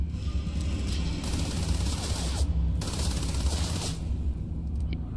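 Sustained automatic gunfire in the video game Starfield, a continuous loud burst of rapid shots with brief gaps, alone without talk.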